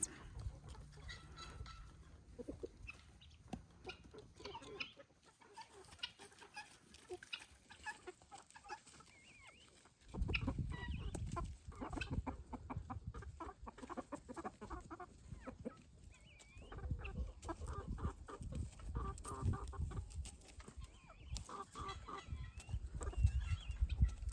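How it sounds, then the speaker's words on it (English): Soft, scattered clucking and chattering of guinea fowl at a distance, irregular and busy, with some louder rustling bursts in the second half. "See all these blackbirds, little guineas."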